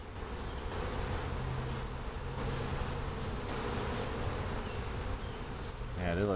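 A thick, constant hum of a crowded 18-frame long hive, many honeybees buzzing up close with an even, unbroken drone.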